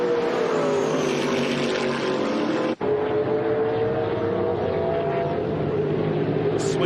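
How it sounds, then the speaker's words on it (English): TA2 muscle cars rumble steadily around Mallala Motorsport Park on the Adelaide Plains during a Hi-Tec Oils Super Series race. The engine drone is loud and continuous, with a brief drop partway through. "Sweet sounds of these TA2 muscle cars rumbling around the Adelaide Plains this afternoon."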